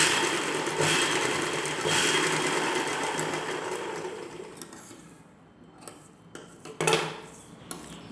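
A sewing machine stitches three layers, buckram, lining and dress fabric, for an umbrella-cut dress: a rapid continuous mechanical whir for several seconds, then it stops with scattered clicks and short bursts as the fabric is adjusted.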